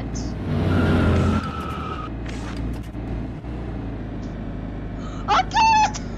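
A futuristic car in a video game drives and skids, with a long tire screech early on and a sharper squeal near the end over a steady engine drone, with a voice talking over part of it.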